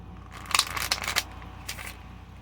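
A deck of tarot cards is shuffled, giving a quick flurry of soft papery riffles and snaps, close and fairly quiet.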